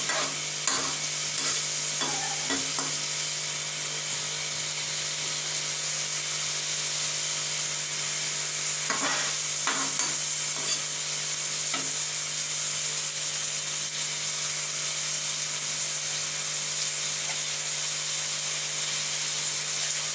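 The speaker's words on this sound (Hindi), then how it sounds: "हम प्याज शामिल करेंगे। बिस्मिल्लाहिर्रहमानिर्रहीम। चूल्हे का फ्लेम तेज।" Onions frying in a pan over a high stove flame while spinach with egg is being cooked, a steady close sizzle with occasional stirring scrapes and clicks of a utensil, no talking.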